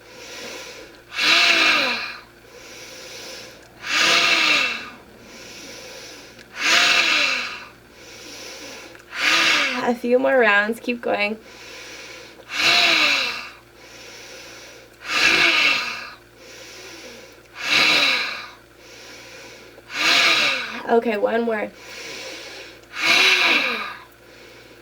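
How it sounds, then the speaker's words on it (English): Forceful lion's breath exercise in a guided meditation: about ten strong rhythmic exhalations, each a loud breathy rush with a roaring voiced edge, evenly spaced with brief pauses between and calm spoken instruction woven in. "Keep that lion's breath going."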